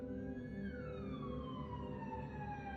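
Ambulance siren with a sliding pitch sweeping down, steady and fairly loud over a dense rumbling background, no talk.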